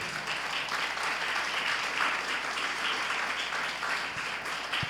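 A church congregation applauds during a Spanish-language sermon on prophecy, steady dense clapping that fills the room from start to finish without pause.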